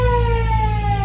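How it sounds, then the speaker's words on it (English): A fire truck's emergency siren sounds during a test, a steady loud wail with layered tones and no talk over it. "siren check"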